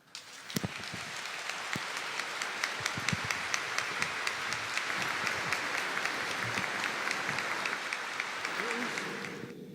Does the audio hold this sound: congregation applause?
yes